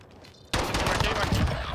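Gunfire in a shooter video game, including sniper rifle shots, erupts suddenly after a quiet moment into a loud, dense burst of rapid overlapping shots that continues to the end.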